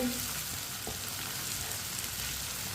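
Okra (bhindi) frying in a pan, a steady, even sizzle that runs unbroken throughout at moderate volume, with no voices.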